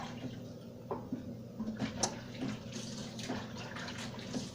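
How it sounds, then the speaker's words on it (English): Hands being rinsed under a running kitchen tap while making butter biscuits, a soft steady water flow with small splashes and drips, fairly quiet and close. "I'm going to wash my hands off just a dab."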